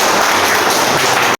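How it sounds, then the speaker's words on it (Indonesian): A loud, dense burst of applause from an audience at a motivational talk, close and continuous before stopping abruptly. "Ya, tepuk tangan."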